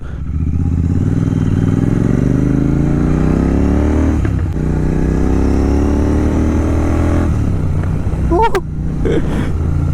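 Royal Enfield Interceptor 650 motorcycle exhaust, loud and close, a continuous engine drone rising steadily in pitch as it accelerates, easing briefly before pulling again, with a short clatter near the end.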